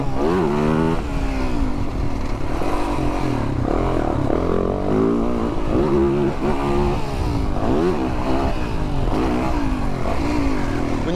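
A motocross motorcycle engine drones steadily, rising and falling as the rider works the throttle, loud and continuous throughout with no pauses.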